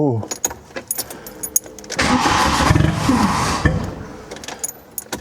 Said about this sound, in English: this starter motor is dodgy as hell